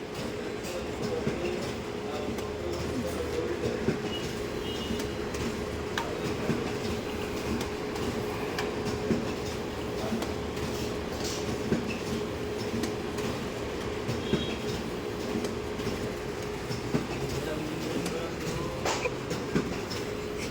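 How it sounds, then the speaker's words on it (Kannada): Steady mechanical whir and hum of a digital printing machine running off certificate sheets, continuous and even with faint rhythmic clicks throughout. "12 ಶೀಟ್ 1 ನಿಮಿಷಕ್ಕೆ ಪ್ರಿಂಟ್ ಆಗಿಬಿಡುತ್ತೆ"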